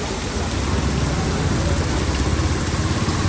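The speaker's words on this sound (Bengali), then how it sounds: "বৃষ্টি হচ্ছে" Steady broadband hiss of heavy rain falling in Bogura, with a low rumble like a nearby engine running underneath throughout.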